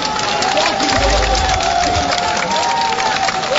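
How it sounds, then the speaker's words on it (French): An outdoor crowd at a concert for peace and reconciliation in Côte d'Ivoire applauds and cheers, a loud, continuous roar of clapping and voices with a whistle-like tone running through it. "Applaudissements nourris pour lui"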